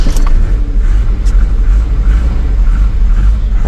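Datsun 210 engine running after starting on a repaired starter, a loud close low rumble of idle with steady throbbing and a couple of faint clicks.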